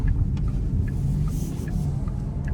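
A 2025 Porsche Panamera 4S E-Hybrid running on electric power alone gives a steady low road rumble and tire noise in the cabin, with no engine note rising above it.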